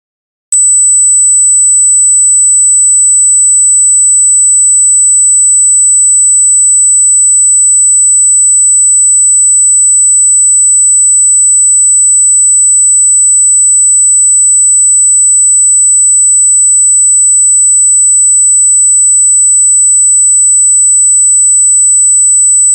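A steady, loud pure sine test tone at 8,000 hertz plays alone and unbroken for about twenty seconds after a short silent lead-in.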